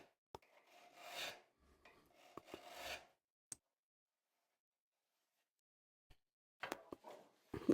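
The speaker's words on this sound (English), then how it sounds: "first bring up your initial burr with the file." Hand file rasping along a scraper blade held in a vise to raise a burr, several close rubbing strokes in two bursts, then silence and a few short scrapes at the end.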